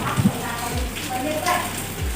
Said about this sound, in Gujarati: વરસાદ કેવો પડી રહ્યો છે